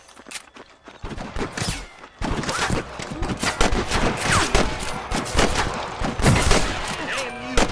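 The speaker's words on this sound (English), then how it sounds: "I can hear more gunshots." Rapid bursts of gunfire in the video game Red Dead Redemption crack and rattle, mixed with single shots and scattered impacts, loud and continuous after a quieter first second.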